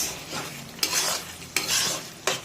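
A spoon stirs fish curry spice paste with a little sugar in a pan for a bhetki-style fish recipe, scraping in soft swishes with three sharp clinks against the pan, close and steady.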